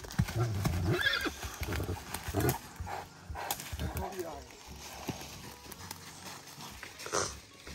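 A young horse whinnies and hooves clop on the ground, with people talking throughout and a louder burst of activity near the start.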